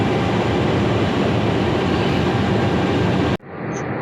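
A Jayabaya passenger train, built from modified carriages, makes a normal stop at Tegal station, heard from inside as a loud steady rumble that abruptly drops to a quieter hum.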